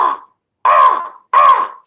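A person imitates a crow, giving three harsh, nasal caws, the first clipped short and the next two fuller, each separated by a brief silence, close and loud with no background noise.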